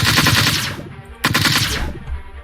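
Rifle fire in the video game Flight Force 4 comes as two loud bursts of rapid shots separated by a short pause, close and dominant.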